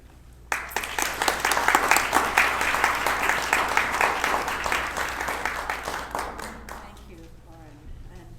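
A church parish audience at a morning lecture breaks into sustained, dense applause that starts abruptly, holds steady for several seconds, then fades, followed by a speaking voice near the end.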